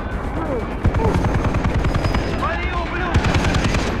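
Rapid bursts of machine-gun fire in Far Cry 3 rattle over a loud, steady helicopter rotor throb, with a voice speaking over the gunfire.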